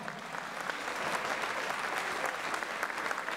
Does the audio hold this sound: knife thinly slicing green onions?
no